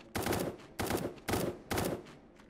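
Gunfire in the VR battle-royale game The Last Player during a tournament match: four loud, evenly spaced bursts of rapid shots, each with a sharp attack and short trailing decay.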